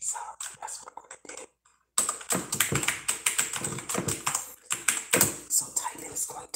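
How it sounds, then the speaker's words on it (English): Steady tapping on a computer keyboard, close and crisp, a rhythmic stream of keystrokes with a short pause partway through and faint whispered speech mixed in. "So typing is going to be involved"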